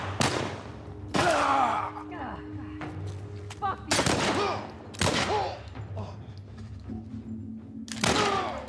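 Gunfire in The Last of Us comes as several loud, sharp shots spaced a second or two apart, each with a ringing tail, and a few brief voice sounds between them.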